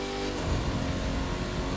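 A Ford Mustang Shelby engine in The Crew 2 roars loud and close at sustained high revs, a steady racing drone with no pause and no talk.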